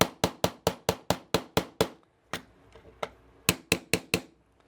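Sharp metallic taps of a hammer driving steel trigger spring pins through a SCCY CPX-2 pistol frame with a 1/8 inch punch: a quick run of about nine close, loud strikes, a pause with faint handling, then four more.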